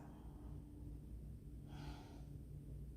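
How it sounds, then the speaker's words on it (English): Deep, slow breathing during a lower-body yoga stretch, a single soft inhale-exhale swell rising around the middle of the clip over a steady low hum, close and quiet. "2 more deep breaths"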